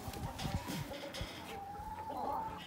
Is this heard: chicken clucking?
yes